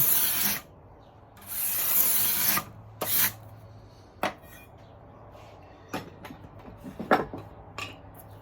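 A wooden binding strip is scraped with a hand tool: two bursts of harsh scraping up close, then lighter scattered scrapes, taps and knocks.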